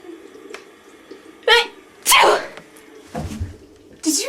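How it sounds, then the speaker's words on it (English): A few sharp sneezes burst out one after another against quiet background, each brief and close, with small snuffly sounds between them. "when someone sneezes, they're releasing billions of germs into the air"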